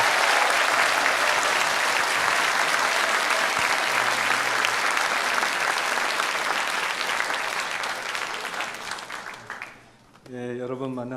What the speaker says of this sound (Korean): 우리 큰 박수로